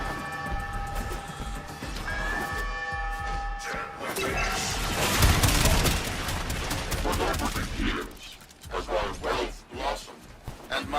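Rapid weapon fire in the Warframe video game, a dense sustained burst of loud shots building toward the middle of the clip, layered with clattering effects and game music.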